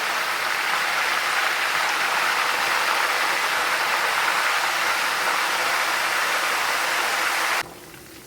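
Curry leaves frying in hot oil with garlic and ginger for a fish pickle, a steady, even hiss of sizzling that holds constant and then drops abruptly to a quieter sizzle near the end.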